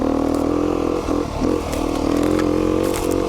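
A 2019 Beta 390 RR Race Edition dirt bike engine drones steadily and loud while riding a trail, with a constant low hum and brief dips and scrapes midway, no voices over it.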